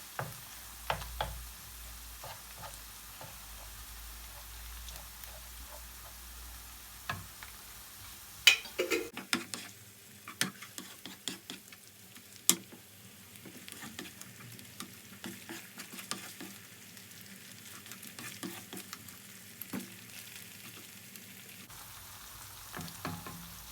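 Tomato paste is frying in a pan with softened onions for stuffed vine leaves: a soft crackling sizzle with scattered sharp ticks and stirring scrapes, close and steady at low volume, with no talking.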